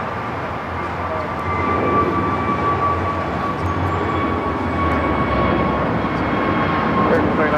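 A jet airliner takes off at Los Angeles International Airport, a loud continuous engine roar with a steady high whine that swells and holds throughout.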